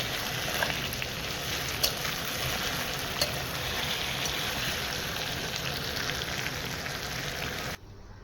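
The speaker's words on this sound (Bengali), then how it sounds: "আলুটা একটু ভালো করে ভেজে নেবো" Steady sizzling and crackling of potatoes and onions frying in a pan, close and continuous, with a few soft clinks of stirring.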